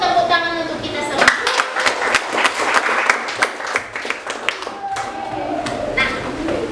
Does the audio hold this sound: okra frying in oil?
no